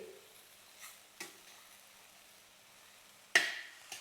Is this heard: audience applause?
no